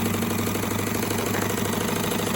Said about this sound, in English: It's actually sewing very smoothly right now.